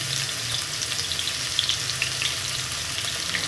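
Chopped onions frying in oil until golden brown give a steady, close sizzle of crackling hiss with small pops, alone and even throughout.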